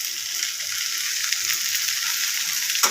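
Boiled potatoes being stirred with onions in a hot pan for Bengali alu chokha, a steady close sizzle with a brief scrape near the end.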